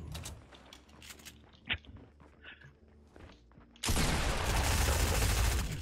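Gunfire fills a Fortnite Creative deathmatch: scattered shots and movement sounds at first, then a sudden, loud, sustained burst of rapid firing that holds to the end.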